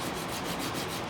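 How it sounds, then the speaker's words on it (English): A knife blade is hand sanded in a bladesmithing shop, a steady, even rasping rub that continues without a break, close and alone. "doing the hand sanding."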